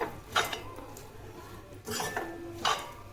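Masala being stirred in a cooking pan for chapathi egg kothu: three distinct clanking scrapes of a metal spoon against the pan, close and moderately loud, spaced about a second apart over quiet kitchen background.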